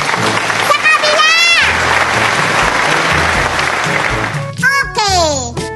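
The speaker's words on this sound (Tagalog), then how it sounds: "Palakpak naman!" Loud, dense applause from a crowd at a Miss Gay pageant held in a cemetery, with whoops, cheers and shrill voices rising over the clapping at the start and again near the end.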